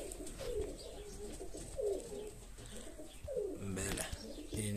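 Pigeons coo softly in a loft, several repeated throaty rolling calls at an easy rhythm, with faint rustling and handling noises and a low background hum.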